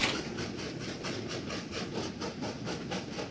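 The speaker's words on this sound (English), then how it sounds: "This train will now enter this grey station." A train moving into a station in the video game Train Valley, with faint, steady rhythmic clickety-clack rolling and a continuous rumble, no talk.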